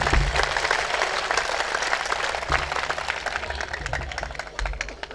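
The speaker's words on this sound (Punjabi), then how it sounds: "ਮੁਰਸ਼ਿਦ ਦੇ ਦਰਗਾਹ ਤੇ ਤੇ ਮੁੜ ਇੱਕ ਤਾੜੀ ਮਾਰ" Audience applause at a Punjabi mushaira poetry gathering at a shrine mela, a dense, steady wash of many hands clapping for about five seconds, loud and close, with no voices over it.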